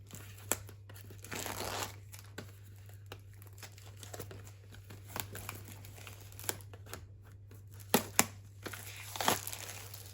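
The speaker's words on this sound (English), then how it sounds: "just cut through the plastic here like so, and then we'll just peel it off" Plastic wrap being cut with an unboxing knife and peeled off a smartwatch box, soft close crinkling and tearing with scattered small crackles, faint and steady with no talk.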